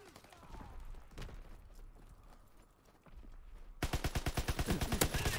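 Rapid rhythmic gunfire in Call of Duty WW2 online play, quiet scattered shots at first, then a loud fast burst of evenly spaced rounds near the end.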